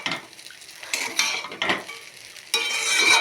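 Chowmein stir-fried in a pan for a Sunday breakfast, with scraping and clinking of utensil against metal over a steady sizzle, building to a louder burst of frying near the end.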